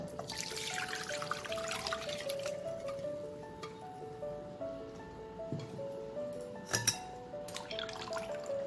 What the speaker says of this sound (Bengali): আমি এবার এই ইয়াকনিটাকে স্ট্রেনারে ছেঁকে নেব